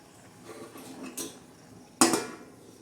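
A metal lid clanks down onto a pan of simmering onion greens curry with green chillies and peanuts over low heat, one sharp close clatter after some softer scraping.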